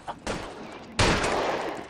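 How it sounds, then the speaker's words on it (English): Gunshots in the video game L.A. Noire, a faint early pop then two loud close bursts of gunfire, the last one ringing out into a lingering tail. "I was shooting at the flies."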